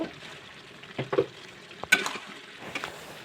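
Broiler chicken pieces are stirred and fried in a pan with a soft sizzle, while a spatula scrapes and taps the pan now and then, close and fairly quiet.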